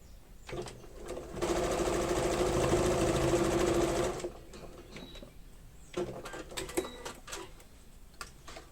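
Sewing machine topstitching a zippered bread bag at a 3.8 stitch length: a steady, fairly loud whirring run lasting about three seconds, followed by quieter clicks and handling noises.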